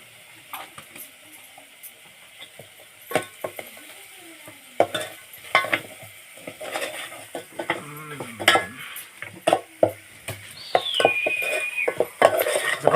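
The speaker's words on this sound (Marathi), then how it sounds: "मिश्रण हलवून घेत आहे आणि थोडीशी हळद" A spice mixture with a little turmeric is stirred in a pan for a spicy curry of freshly caught mud crabs. Repeated scrapes and clinks of a spoon against the pan sound close up over a soft sizzle, irregular and without talk.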